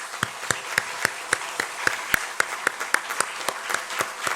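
A congregation in a Korean church claps in steady rhythmic unison, sharp evenly spaced claps about three per second ringing out alone with light crowd noise underneath.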